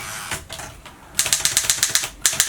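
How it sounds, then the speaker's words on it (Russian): An Erika M typewriter set to red mode hammers typebars against the lower half of the ribbon in a rapid run of sharp, loud clacks, about a dozen strikes in a steady rhythm, with softer mechanical clicks beforehand. "Литера ударяет по нижней половине ленты."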